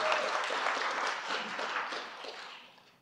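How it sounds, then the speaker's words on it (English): Audience applause at a conference closing ceremony, a dense wash of many hands clapping together, loud at first and then tapering off over a few seconds. "So round of applause to all of them."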